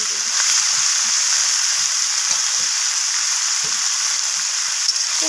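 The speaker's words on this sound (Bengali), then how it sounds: "আবারও সব কিছু নাড়াচাড়া করে ভেজে নিচ্ছি।" Vegetables with fish roe and eggplant fry and get stirred in a pan, giving a steady, loud, continuous sizzle with scattered soft scraping stirs throughout.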